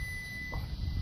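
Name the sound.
multimeter continuity beep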